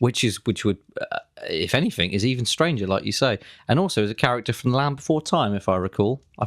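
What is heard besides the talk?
No everyday noise stands out behind the speech.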